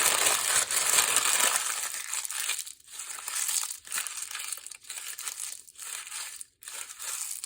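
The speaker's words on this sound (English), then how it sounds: "So I'm going to crumple it up." Paper torn from a roll bought in a hardware store's painter section is crumpled by hand for junk journaling, a close, steady crackling and crinkling with brief pauses and no talk.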